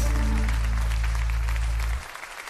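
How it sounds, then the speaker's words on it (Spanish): A church congregation applauding loudly and steadily in praise of the King of Kings, dense clapping over a low sustained hum that cuts off abruptly near the end. "Venga, fuertes aplausos al Rey de Reyes"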